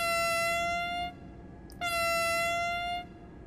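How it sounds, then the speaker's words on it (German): An S-Bahn train's signal horn in the Zusi train simulator game near Au (Sieg) heading toward Köln sounds two loud, steady tonal blasts, the first about a second long and the second longer, after a brief gap. "Hat auch ein schönes Signalhorn."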